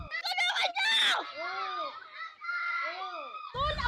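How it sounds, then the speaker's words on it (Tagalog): Several people scream and shout in alarm during a violent stabbing attack between neighbours, loud strained voices rising and falling with wavering cries, a child-like shrill tone among them, and a burst of commotion at the end. "Maririnig ang mga sigaw na humihingi ng tulong para sa biktima"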